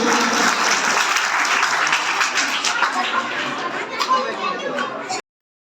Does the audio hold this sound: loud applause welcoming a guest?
yes